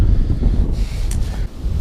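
Strong gusty wind on a river in spring buffets the microphone with a constant low roar, rising and falling in blasts, no voices.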